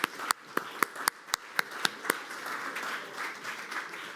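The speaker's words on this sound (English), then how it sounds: "you deserve a big applause for your attendance" Audience applause at a European Jewish community conference panel, opening with a handful of loud, evenly spaced single claps before swelling into a steadier round of clapping from the crowd.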